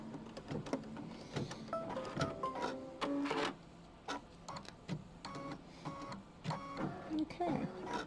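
An embroidery machine stitches a placement line for a cake-block appliqué, giving a close, rapid mechanical chatter with rhythmic needle clicks and short motorized whirring tones that stop and restart.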